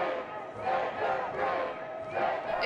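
A large anti-mandate protest crowd gathered at New Zealand's parliament, a continuous roar of shouting and chanting voices with surges and swells, heard from within the throng.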